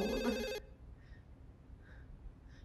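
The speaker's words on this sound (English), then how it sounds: "I don't like the phone." A bright electronic telephone bell rings briefly and loudly in a Japanese-language K-pop music video, then cuts off, followed by a few faint, distant ring-like tones.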